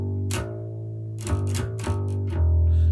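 Electric bass playing a riff, with repeated picked notes and an open string left ringing out between attacks; a steady sustained low tone runs throughout, with a few sharp note onsets and no talking.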